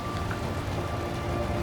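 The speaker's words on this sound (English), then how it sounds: "short but powerful cells roll through, bringing high wind speeds and lots of rain. But it's warm rain" Warm tropical rain pours steadily on a sailboat at sea during a storm cell, a dense, even hiss of drops on surfaces that stays loud and unbroken throughout.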